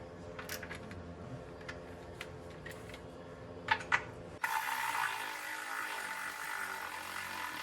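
A socket wrench clicks on a bolt while working on a 2000 Chevrolet Silverado transmission, with sparse close metallic clicks and clanks, then a sudden steady mechanical hum takes over.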